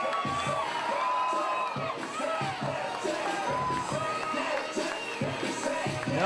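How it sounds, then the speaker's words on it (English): A wrestling arena crowd cheers loudly for Carson before a North American Heavyweight Championship match, a dense sustained roar with whoops and shouts, while an announcer talks over it. "And a hot crowd for Carson here tonight."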